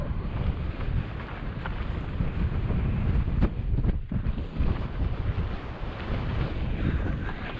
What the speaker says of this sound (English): even with the wind blowing through